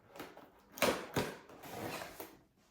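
A Dyson Airwrap Long special edition box is opened up close, with a few short scraping and creaking bursts of cardboard and packaging, then softer rustling before it fades.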